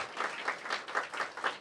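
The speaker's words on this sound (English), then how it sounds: "Give Mark Ein a big round of applause." Crowd applause at a DC Public Education Fund event with the Mayor, brief and fairly soft, with individual claps pulsing in a quick uneven rhythm.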